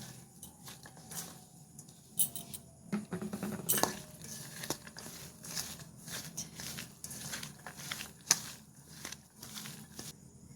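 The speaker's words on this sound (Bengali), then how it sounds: "এবার সবগুলো একসাথে মেখে নেব।" Ingredients for flattened rice pakora, including Maggi masala, being mixed together: quiet, irregular clinks of a spoon against a bowl with light patter and soft crackle, close and steady, with no talking.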